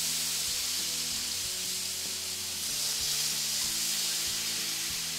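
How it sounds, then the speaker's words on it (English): Steady, close sizzling and hissing of wet asparagus frying in a hot pan, continuous and fairly loud, with no voices. "because it will sizzle when there's water"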